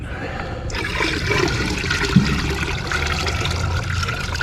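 Steady rushing of dirty water pouring out while separating ash from computer chips, continuous and fairly close, with a brief knock partway through.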